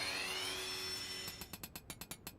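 Video game crafting animation of a goldsmith hammering, a quick run of about ten evenly spaced sharp metallic taps following a steady whirring tone.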